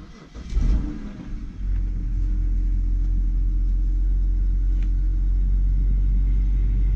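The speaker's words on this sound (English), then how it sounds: "I'll go ahead and start it up for you here. Just so you guys can hear." A car engine cranks briefly and catches, then settles into a steady, loud low idle rumble that continues without any talking.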